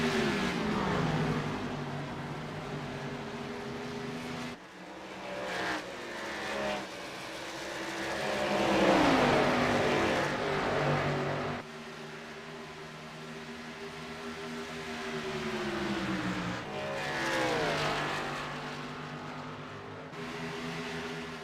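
Race cars lapping Kentucky Motor Speedway give a steady engine drone whose pitch rises and falls as the cars pass. The sound stays loud and continuous, with no talking.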